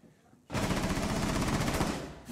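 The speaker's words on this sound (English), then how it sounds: "I'm just shooting around." Sustained automatic gunfire in the video game Rainbow Six Siege, a dense rapid burst starting abruptly and running steadily for about two seconds, loud and with no talking over it.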